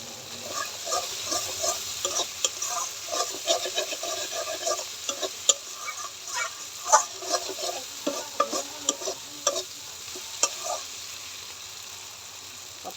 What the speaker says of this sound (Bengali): মশলাটা আমার কত সুন্দর কষানো হয়ে গেছে